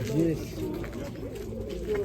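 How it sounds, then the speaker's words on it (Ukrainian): Soft, throaty pigeon coos repeat a few times close by at a market fair, with people talking quietly in the background. "це з Донецька голуби"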